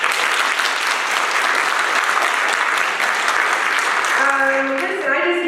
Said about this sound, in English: a round of applause for those that put their lives on the line every single day